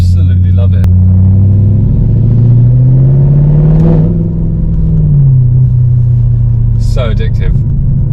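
Stage 2 tuned Audi RS6 rumbling loudly on the road from inside the car, a deep steady drone that rises in pitch as it accelerates and then settles, with brief voices at the start and end.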